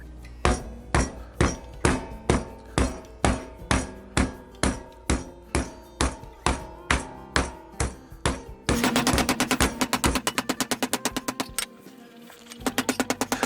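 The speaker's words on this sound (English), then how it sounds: "I'm gonna go ahead and pound this out. It's gonna be noisy." Cast iron skillet pounding steak flat for roulade outdoors: a steady series of about eighteen loud, evenly spaced thuds, then a rapid burst of faster, denser hammering blows near the end.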